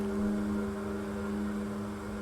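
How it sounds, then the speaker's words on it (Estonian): Water heating to a boil, a steady close hum with a rushing, bubbling texture and no break over the short span, alone without any voices. "See on vee keetmise hääl."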